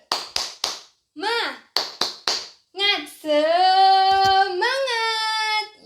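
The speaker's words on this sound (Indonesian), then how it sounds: "mari kita tepuk semangat terlebih dahulu" A class of sixth-grade children performs a rhythmic spirit clap (tepuk semangat), with groups of sharp claps between chanted voices, ending in a long sustained sung shout.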